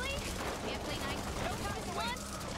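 Rapid gunfire from players shooting at an ogre in the co-op zombie shooter Back 4 Blood, a dense, continuous barrage of shots mixed with game effects and chatter throughout.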